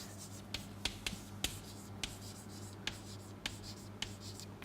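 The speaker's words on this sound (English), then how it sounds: "just let me write it for the benefit of our viewers" Marker or chalk writing a name on a board during a history lecture, heard as a string of short, sharp taps and squeaky strokes spaced irregularly over a steady low room hum, fairly close, with no talking.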